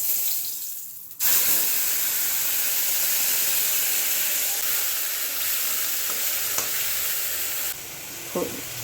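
Taro greens hit a hot pan seasoned with whole cumin and burst into a loud, steady sizzle that holds for several seconds, fading slightly near the end with a brief clatter.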